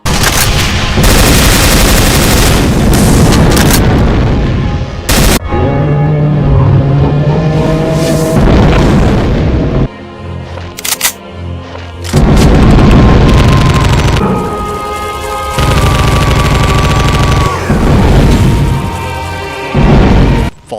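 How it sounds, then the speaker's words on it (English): Rapid volleys of explosive rockets and heavy fireballs from a Cyberdemon in a Doom mod, loud booming blasts stacked into dense barrages with brief gaps and renewed bursts, no voices. "volleys of explosive rockets emitting an explosive wave, even homing ones"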